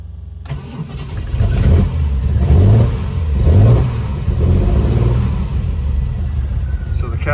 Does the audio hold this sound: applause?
no